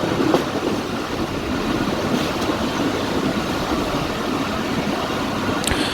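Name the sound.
Jaffar Express passenger train running between Lalamusa and Jhelum, Pakistan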